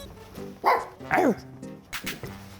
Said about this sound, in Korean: 강아지 안녕.